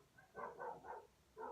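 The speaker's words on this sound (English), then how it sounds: "sorry for the dogs." A dog barks four times in quick succession, faint and somewhat distant, with a short pause before the last bark.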